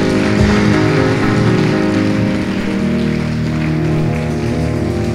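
A church congregation at a Nazarene church service claps steadily and densely, a loud, continuous rain-like wash of applause with sustained musical tones underneath.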